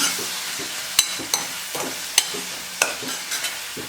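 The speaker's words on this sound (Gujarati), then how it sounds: "ટામેટાની પણ આપણે આમ જ સાંતળી લેવાના છે" Tomatoes are sautéed in a pan with a spoon, giving intermittent scrapes and sharp taps against the metal in an irregular rhythm, close by, over a light sizzle.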